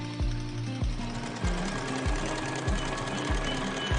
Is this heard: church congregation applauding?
no